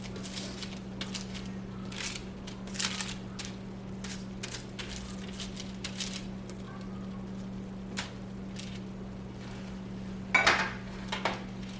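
A utensil stirs veggie spaghetti with asparagus in a pan, soft repeated scrapes and clinks over a low steady hum, with a louder metallic clatter near the end.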